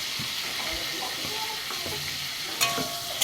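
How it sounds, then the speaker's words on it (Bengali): Pointed gourd fries in mustard oil with salt and turmeric, a steady close sizzle with scattered stirring scrapes and a couple of sharper clanks near the end. "এবারে আমি কড়া সর্ষের তেল দিয়ে পটলগুলো নুন দিয়ে ভেজে নেব"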